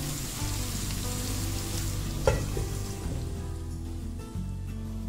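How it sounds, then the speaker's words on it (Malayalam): Fish frying over a low flame in a lidded pan for a fish blanket recipe, a steady, close sizzle and crackle that continues without pause, with a soft clunk partway through. "ഇത് ലോ ഫ്ലെയിമിൽ ഇട്ടിട്ട് ഒരടപ്പ് കൊണ്ട് അടച്ച് വെച്ചിട്ട് വേണം ഇതൊന്ന് ഫ്രൈ ചെയ്തെടുക്കാൻ"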